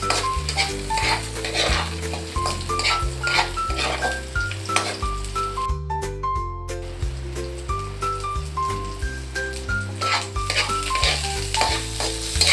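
Garlic, onion and ginger sauté in a pan before fresh mussels go in, a steady sizzle with repeated stirring scrapes and utensil clinks, close and continuous with no talk, over background music.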